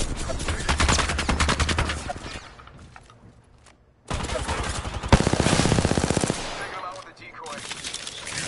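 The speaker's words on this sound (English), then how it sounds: "I hear shooting." Gunfire in the Apex Legends video game, with loud rapid automatic bursts, a pause, then more sustained fire close by, while players talk over it.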